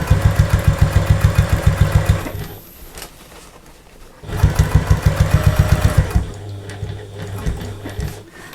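A sewing machine stitches Velcro onto a fabric shoe carrier in rapid, even bursts of needle strokes. A pause falls between two runs of stitching, and a softer motor whir follows near the end.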